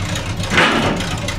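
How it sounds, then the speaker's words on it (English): A 50-year-old truck's engine runs at high revs, a steady, loud mechanical drone with a slight swell midway, and no speech. "Now you may be wondering why they have the truck revved so high for the lights check."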